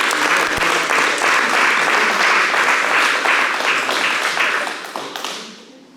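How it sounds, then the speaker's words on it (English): A roomful of people at a mixed martial arts seminar applauds loudly and steadily for about five seconds before the clapping tapers off into quiet. "And it's Carson, give him a round of applause."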